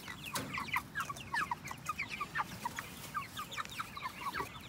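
Chickens cluck softly and steadily near a water setup, a busy chorus of short, overlapping calls at a fairly low level with no talking.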